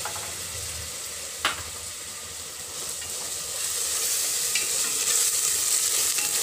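Onions, green chillies and ginger fry in a pan with rice for a pudina rice dish, giving a steady close sizzle and hiss with occasional stirring scrapes that grows slightly louder toward the end.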